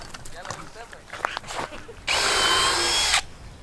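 A power drill whirs steadily for about a second, pre-drilling a hole in wood for garden beds at close range, after some quieter handling and tool clatter.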